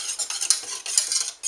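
Gluten-free white sauce being stirred in a pan: a utensil scrapes and clinks against the pan in quick, repeated strokes, close and fairly loud, with no talking.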